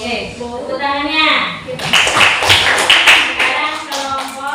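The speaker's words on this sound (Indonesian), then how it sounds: "Oke, tepuk tangannya." Children clap together in an Indonesian fifth-grade classroom, a burst of quick taps that rises after the first second and carries on steadily, with children's voices mixed in.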